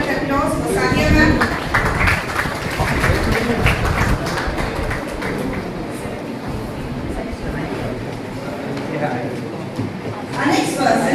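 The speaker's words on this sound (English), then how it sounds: "a big round of applause for Sadia ma'am." Audience at a college alumni reunion applauding, a dense sustained wash of clapping from a crowd indoors, loud at first and easing slightly before swelling again near the end.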